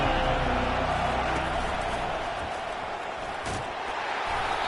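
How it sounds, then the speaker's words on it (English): A stadium crowd roars in College Football 25 during an Oregon vs LSU game, a dense, steady wall of hostile noise sustained throughout at moderate loudness with faint thumps, and no clear speech. "This crowd trying to make life miserable for this offense."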